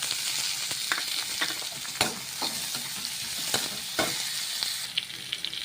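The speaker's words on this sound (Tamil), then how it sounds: "இப்போது சின்ன தக்காளி ஒன்று கட் பண்ணிக்கொள்ள அதை போடலாம்." Chopped tomato fries and is stirred in a pan while palak keerai masiyal is being made, giving a steady close sizzle broken by sharp scrapes of the spoon against the pan every second or so.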